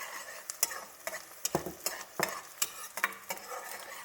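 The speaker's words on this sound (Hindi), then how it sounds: "दाल मेरी उबल चुकी है और अब मैं बना रही हूँ तड़का।" Tadka of tomato paste for dal frying in a pan at home, with loud sizzling and repeated sharp scrapes and clinks of a spoon stirring, close and with no talk.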